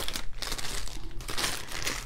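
A big plastic bag from a diamond painting kit is crinkled and pulled open up close, loud continuous rustling and crackling with no talk over it.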